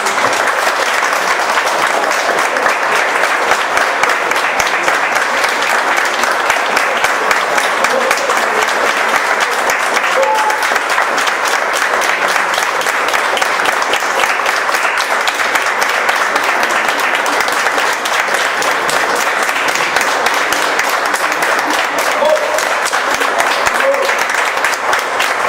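Members of the public applaud during a municipal council meeting, a sustained, even wash of clapping from many hands filling the room without pause.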